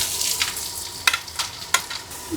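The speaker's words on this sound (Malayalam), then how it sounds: "അപ്പോൾ അതേ കടുകൊക്കെ പൊട്ടിക്കൊണ്ടിരിക്കുന്നു" Mustard seeds splutter in a hot pan as chopped onions fry, giving a steady sizzle broken by sharp, close pops and crackles.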